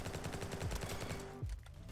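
Rapid automatic gunfire in a Christmas-themed Bad Business shooter game, loud and close, with a dense run of evenly spaced shots for over a second before a final heavier blast and a fading tail.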